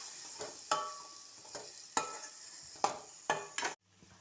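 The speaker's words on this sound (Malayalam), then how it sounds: "നെല്ലിക്ക ഇട്ട് അതിനെ നന്നായിട്ട് ഇളക്കുക" Gooseberries with vinegar and curry leaves are stirred in a pan over heat, a soft steady sizzle broken by several sharp scrapes and clinks of a spoon against the pan, ending abruptly.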